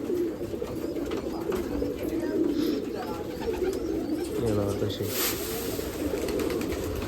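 Pigeon cooing fills the air at a 40-year-old flock of flying pigeons kept on Subhash Road, Nashik, a steady murmur of birds with people talking over it throughout.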